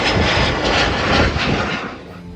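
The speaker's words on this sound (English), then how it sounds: "this is a beautiful jet departure, smooth takeoff" Roar of a private jet, a Dassault Falcon, departing from a private airport on a cool, crisp day: loud continuous engine rumble and broadband rush that fades slightly near the end.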